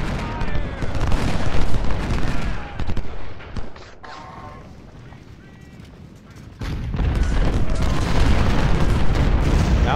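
Cannon and artillery fire from the Civil War strategy game Ultimate General: Civil War, heard as dense rolling booms and gunfire volleys that ease off mid-clip and then swell back to a steady barrage.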